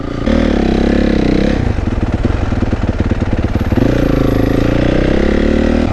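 A supermoto motorcycle revs hard up close during a wheelie, with loud rising and falling engine pitch that settles into a rapid, chattering low idle in the middle before climbing again.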